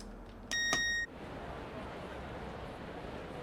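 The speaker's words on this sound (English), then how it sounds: "Let's go ahead and open doors." Train doors open on a Southeastern high-speed train in Train Sim World 2, a half-second electronic beep chime followed by a faint hiss over low cab ambience.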